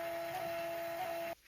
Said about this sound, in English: Let's print out some labels and I'm going to show you how it works.